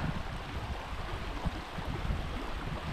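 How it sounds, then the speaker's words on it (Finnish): A babbling stream in Urho Kekkonen National Park in early summer, a continuous soft wash of running water with light wind, no voices over it. "Ja edelleen kiva solina."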